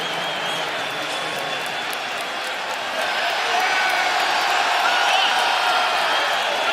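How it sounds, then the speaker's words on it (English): A dense, steady roar of Raptors fans cheering and applauding in a large basketball arena, swelling slightly louder halfway through, with broadcast commentary faintly mixed in. "I don't like to hear the fans cheering."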